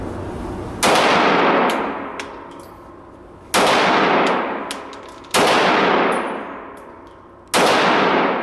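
Tokyo Marui FN5-7 gas blowback airsoft pistol fires four sharp, loud, clanging shots at irregular intervals, each followed by a ringing decay.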